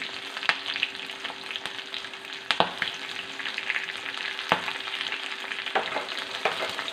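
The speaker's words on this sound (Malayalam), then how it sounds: "രണ്ട് മൂന്ന് കറിവേപ്പില ഇടുന്നു" Curry leaves frying in hot oil with green chillies for a homestyle rasam, a steady close sizzle and crackle with sharp pops and occasional stirring scrapes.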